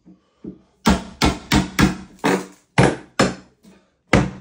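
About ten sharp hammer knocks against wood during a bathroom renovation, spaced unevenly, loud and close, as a board is pried loose.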